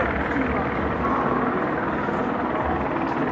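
A helicopter flies overhead in a city, heard as a continuous close rotor rumble and whir that dominates the scene while a voice talks over it.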